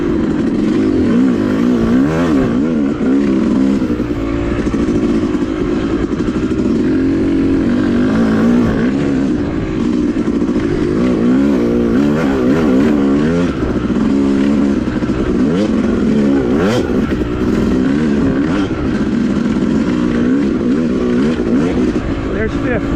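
Yamaha YZ250 two-stroke dirt bike ridden on a wooded OHV trail, engine loud and close with rising and falling revs through gear changes, a rider's voice talking over the steady buzzing drone.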